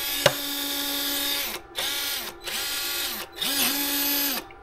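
A 1:18 scale RC crawler drives with a buzzing, high electric motor and drivetrain whine. The whine repeatedly stops and restarts, with pitch swoops as the throttle changes.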